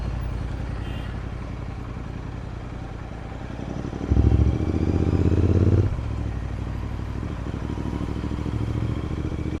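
A Royal Enfield Interceptor 650 motorcycle thrums steadily while riding after rain, running oddly, swelling louder for a couple of seconds midway before settling back to a rough, clattering drone.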